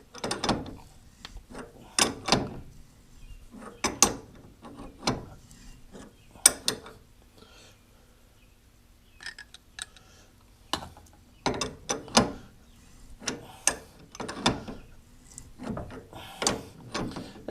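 A crescent wrench locks the chuck on a rotary table in a machine shop, giving repeated sharp metallic clanks and ratcheting knocks in bursts with pauses between them, close by and without talk.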